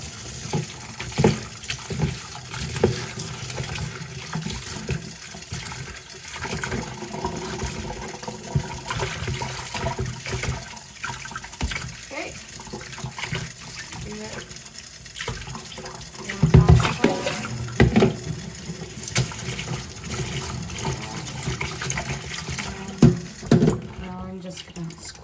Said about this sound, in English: As I'm washing, I'm just squeezing out the liquid. You can see the yellow liquid is coming out.